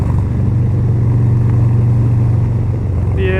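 A low rider motorcycle's exhaust drones loud and close while riding through curves, a steady throbbing engine note with wind noise and a brief higher tone at the end.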